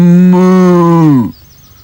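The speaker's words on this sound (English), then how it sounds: "It's a herd of cows" A single loud, close cow moo, a long sustained tonal low that holds steady and then drops and cuts off into near silence, heard alone with no other voices.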